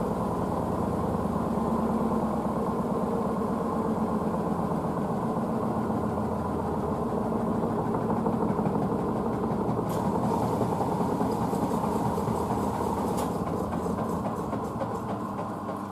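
A Blomberg washing machine on an unbalanced spin cycle with white towels gives a loud, steady droning rumble with a rhythmic thumping under it, continuous throughout.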